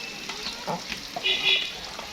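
Onions frying for a meat curry on a clay stove, a soft steady sizzle with occasional stirring scrapes and brief bright crackles close by.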